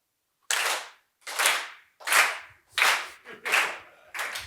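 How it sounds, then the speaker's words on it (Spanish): Large audience clapping in unison, six sharp, loud group claps in a steady rhythm with short pauses between them and no talking. "Aplaudid de forma sincronizada."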